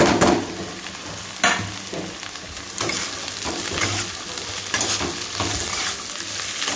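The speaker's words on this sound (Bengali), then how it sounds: "দেখো এটা ভাজা ভাজা হয়ে এসছে, পেঁয়াজটা নরম নরম ভাজা ভাজা হয়ে আসে।" Onions, carrots, beans and green chillies fry in a pan with a dense sizzle, broken by repeated bursts of scraping and stirring against the metal.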